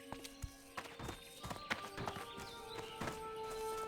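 A horse mount's hooves clip-clop in World of Warcraft in a human starting zone, as a loose series of light hoof hits mixed with sustained tonal game sounds at low overall volume.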